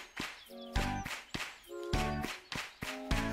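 Sharp, loud hand claps in a children's clapping game, a quick rhythmic pattern of slaps repeating across the clip, with sung tones alongside.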